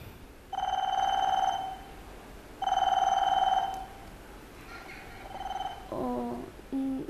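A telephone rings in two long, loud bursts, then gives a fainter ring and some short electronic beeping tones, with no voices.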